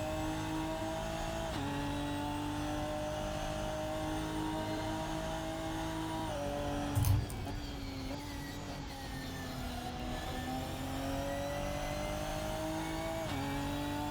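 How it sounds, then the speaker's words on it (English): Ginetta G55 GT4 race car engine in the Assetto Corsa sim at Donington Park GP, droning steadily at low-to-mid revs through a corner, pitch dipping and climbing with gear changes, with a brief thump around seven seconds and no speech. "My revs are pretty low going around that corner."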